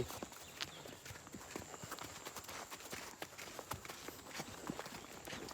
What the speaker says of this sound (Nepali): म चाहिँ घोडा चढ्दैछु